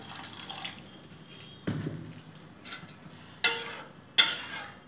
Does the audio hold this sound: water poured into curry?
yes